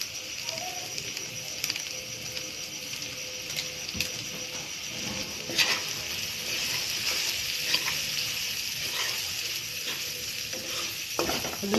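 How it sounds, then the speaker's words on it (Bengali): Vegetables fry in a pan with chilli powder and turmeric added, a continuous loud sizzle overlaid with repeated scraping and clicking of a spoon stirring against the metal, without speech. "হলুদ দিয়ে এটা একসঙ্গে মিশিয়ে এটাকে ভাজবো।"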